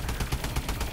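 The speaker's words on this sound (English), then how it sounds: "Sati, shoot their feet if you're in here." Rapid automatic gunfire in a Call of Duty zombies video game, a loud, dense run of shots repeating about every tenth of a second for a full second.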